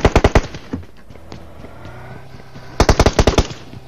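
Automatic gunfire in PUBG Mobile rings out in two rapid bursts of loud, sharp shots, one at the start and another after a quiet stretch of low background rumble.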